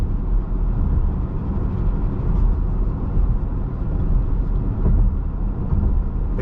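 Road and cabin noise inside a 2024 Audi Q3 Premium Plus over a bumpy road: a steady low rumble with a few soft thumps from bumps, muted and even.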